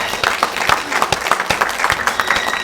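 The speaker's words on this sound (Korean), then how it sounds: "다시 한번 감사의 박수 부탁드립니다" Audience applause at a youth leaders' conference in Hwaseong, crisp close claps with distinct individual hand strikes standing out over a dense, lively crowd clapping throughout.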